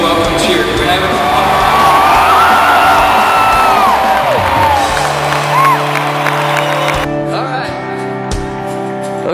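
A large crowd at a Passion 07 event roars a loud welcome cheer, with whoops and shouts swelling together up close before the noise cuts away sharply near the end.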